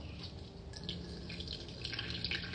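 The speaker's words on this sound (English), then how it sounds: "I'm getting all excess buttermilk out of this butter" Buttermilk drips and trickles from butter being squeezed in cheesecloth, a close, steady wet patter with small splashes running continuously without talk.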